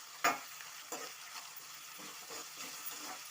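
Onions frying in a pan with curry leaves and salt, a soft, fairly quiet sizzle with an opening clack and a few light stirring scrapes spaced through; no speech.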